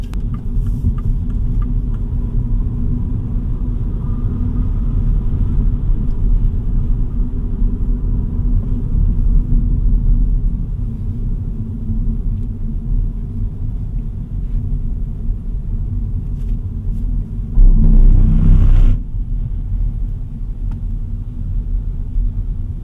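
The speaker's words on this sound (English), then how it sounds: "So road noise at higher speeds, it's still pretty manageable" Steady low road rumble and tire noise fill the cabin of a 2025 MINI Cooper JCW hatchback at highway speed, constant throughout, with a brief louder swell near the end.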